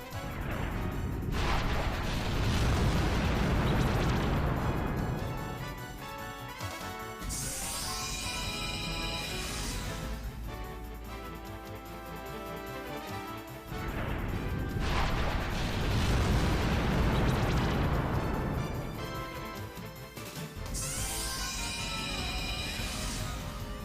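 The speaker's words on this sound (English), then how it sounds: "4 more missile salvos ought to do it." Missile salvo explosions in the video game Wild Arms 3, heavy booming blasts in two long waves with crashing impacts and bright whistling streaks between them, loud and dense with no talking.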